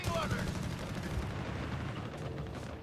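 Rapid .30 cal machine gun bursts and other gunfire rattle in a Company of Heroes 3 battle, with dense low booms and crackling shots running continuously under a commentator's voice.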